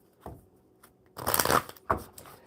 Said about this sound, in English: Now I will shuffle the Oracle for Amanda.